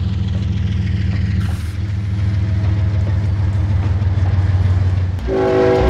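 A Norfolk Southern coal train climbs a grade with heavy, close diesel engine rumble and rolling wheel clatter, followed near the end by a sudden loud blast of the horn.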